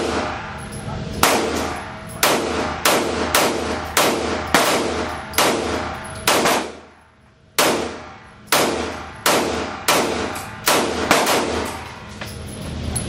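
Repeated gunshots at a shooting range crack out one after another in a steady rhythm, about a dozen loud close shots with a short pause midway.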